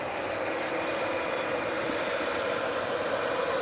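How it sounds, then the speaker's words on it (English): A Union Pacific stack train rolls past on the Evanston Subdivision main line, a continuous moderate rumble of wheels and cars with a steady, even roar throughout and no one speaking. "Everybody likes stack trains."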